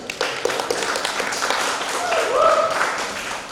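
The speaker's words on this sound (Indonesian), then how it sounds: "Berikan tepuk tangan yang meriah kepada pasangan calon nomor 1." A crowd applauds candidate pair number one at a student presidential debate, a moderate wash of clapping mixed with murmuring voices and room noise.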